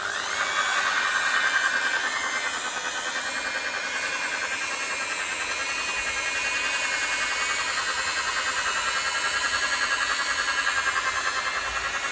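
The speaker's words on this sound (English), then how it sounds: "all I'm going to do is use my machine polisher and a bit of T-kit" A machine polisher with polishing compound works over the headlights of a Renault Clio during restoration, a steady whirring drone with a hissing edge that holds constant and close for the whole stretch, with no voices.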